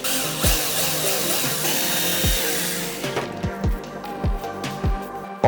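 A power tool drills a hole for a button in a homemade RGB LED panel, a steady loud whine that cuts off midway, followed by several sharp knocks and clatters of handling the panel.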